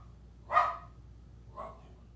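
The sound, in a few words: dog barking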